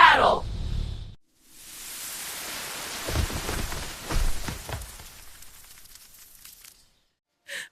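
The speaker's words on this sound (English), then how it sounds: "My house is destroyed by rain." Cartoon-style rain effect, a broad hissing downpour that swells and fades in uneven waves for several seconds before cutting off, with a brief burst at the end.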